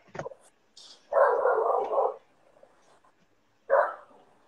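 A dog lets out a few short barks and a longer drawn-out yelp, close by, separated by brief silences.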